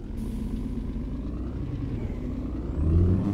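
A truck engine idles and rumbles in On The Road Truck Simulator, a steady low drone that swells into a louder, deeper roar near the end as it starts up.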